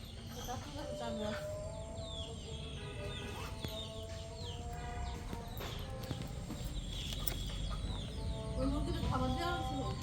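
Chickens clucking nearby in a farmyard, repeated short calls and murmuring clucks over a low outdoor background, fairly quiet with no clear speech.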